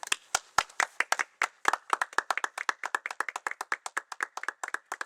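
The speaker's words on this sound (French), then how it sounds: "Je demanderai quelques applaudissements." Scattered hand claps from a small group celebrating a CD launch, starting as a few sharp separate claps and settling into quicker, steady clapping, fairly quiet with no talking.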